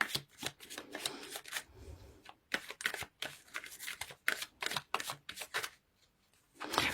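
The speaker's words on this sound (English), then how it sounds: "So let's pull few cards to clarify situation from Gildred." Tarot cards are pulled from the deck and riffled in quick, crisp bursts, close to the listener. Short pauses separate the runs of papery flutter and snapping.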